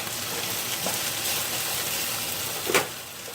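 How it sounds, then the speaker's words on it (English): Taco meat simmering in a pan on a stovetop burner, a steady close hiss and sizzle with a few brief louder pops, no talking. "we're just going to let this simmer"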